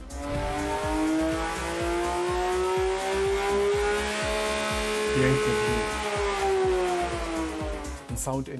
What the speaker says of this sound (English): This engine really needs no sound engineering.